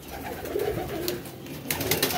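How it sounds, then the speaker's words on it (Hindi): Lal Pari breed pigeons, including a female, coo softly and repeatedly at close range against a busy ambient background of rustling and outdoor noise. "माशाल्लाह लाल परी कबूतरी है और ये गया जोड़ा ही कंप्लीट आ गया"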